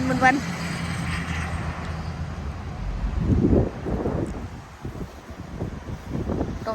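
Strong dry wind gusts steadily into the microphone outdoors, rumbling and buffeting in waves while a person talks over it.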